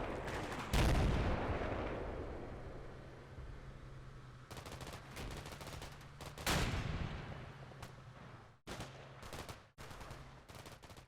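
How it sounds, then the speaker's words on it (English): Russian artillery fire in the Combat Mission: Black Sea war game, a loud close booming burst with rumbling decay followed by a rapid series of sharp blasts and impacts near the end. "Some Russian artillery, I believe."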